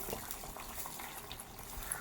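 A steady bubbling simmer of liquid in a pot, soft and continuous throughout with no voices.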